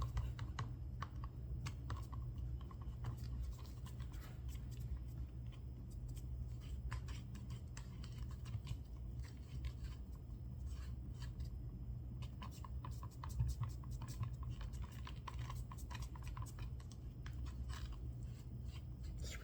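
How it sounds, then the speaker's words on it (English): Mica powder being mixed into pen casting resin in a cup, with steady close scraping and tapping of the stir stick against the sides, a continuous soft scratchy clatter under a low background hum. "Scrape the side still, get off that extra mica powder to fully incorporate it."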